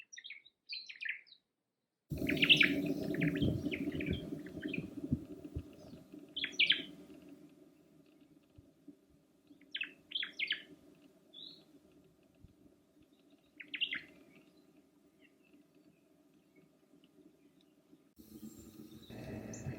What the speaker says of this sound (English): The oma'o, or Hawaii thrush, is endemic to the Big Island